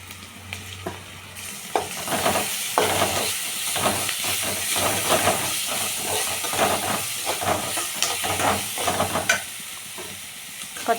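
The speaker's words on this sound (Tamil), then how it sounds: "இது எண்ணெய் சட்டியில் போட்டு வதக்கணும்னா கொஞ்சம் தாராளமாக நல்லா வதங்கும்" Ginger garlic paste sautéing in a generous amount of oil in a pan, a loud, close hiss and sizzle with repeated stirring scrapes, no one talking.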